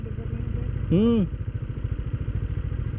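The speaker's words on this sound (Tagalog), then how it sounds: "Bago kasi yung motor niya, tinetesting namin. Yun yung Yamaha eh. PG1." A Yamaha PG-1 motorcycle engine idles under test with a steady low, rapid chugging pulse, while a brief rising-and-falling voice sound cuts across it near the start.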